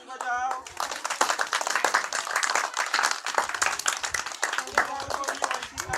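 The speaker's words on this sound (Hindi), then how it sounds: "ताली बजाओ" Schoolchildren in a classroom clap together for a classmate who has just told a story, a brisk, dense burst of many hands that continues steadily with voices mixed in.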